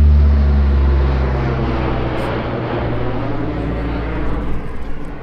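A propeller airplane drones loudly over a golf course, its deep engine rumble slowly fading as it passes, with faint noise in the background.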